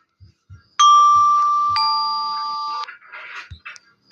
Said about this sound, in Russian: Ксилофон.